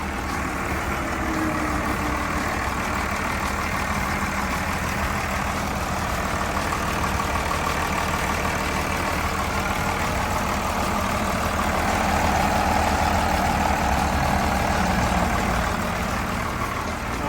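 The Komatsu 6D102 diesel engine of a Komatsu WA200-5 wheel loader idles steadily with a low rumbling drone and constant mechanical hum, close and continuous throughout.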